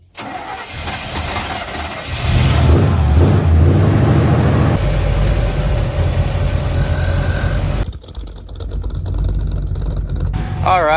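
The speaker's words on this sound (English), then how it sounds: "All right, the 79 is up and running and ready to go." A 1979 4x4 truck engine cranks and catches after a couple of seconds, then runs with a loud, steady rumble that continues to the end, with some shifts in the surrounding noise near the finish.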